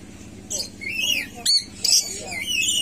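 Birds calling at a bird conservation site near Baturraden, with a few sharp squawks and rising chirps up close over a low background hum and faint voices.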